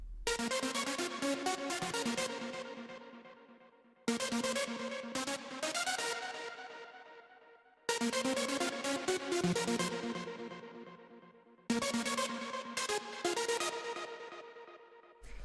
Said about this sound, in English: And the first sound that we have here is the lead,